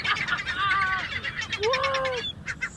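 Seabirds at Laguna Beach give loud, close calls in a noisy flock: drawn-out rising and falling squawks overlap with rapid honking cries over a busy background of more birds.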